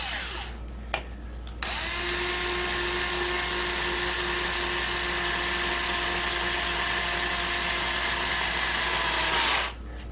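A power drill starts with a brief click, then whirs loudly and steadily for about eight seconds while driving a screw, and stops abruptly; close and alone without talking.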